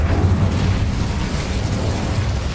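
Hogwarts Legacy's Incendio fire spell releases a dense, continuous roaring whoosh of flame, loud and close, sustained for the whole moment without a clear break.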